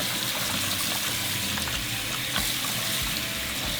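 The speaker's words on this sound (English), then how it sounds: "we're going to rinse them with cold water" Cold tap water runs steadily in a sink while shrimp are rinsed, a continuous close splashing rush with no talk.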